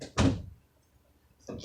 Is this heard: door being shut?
yes